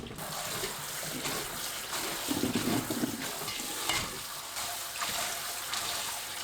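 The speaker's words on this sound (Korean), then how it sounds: "찬물에 2~3번 헹굽니다." Cold running water splashes and swishes steadily as salted cucumbers are rinsed and stirred around in a basin, with a brief clatter partway through.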